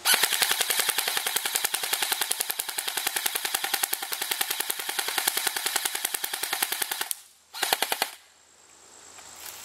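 Airsoft gun firing full-auto at a Cactus Hobby Templar mask: a rapid, unbroken string of sharp cracks for about seven seconds, a brief pause, then a short final burst, loud and close.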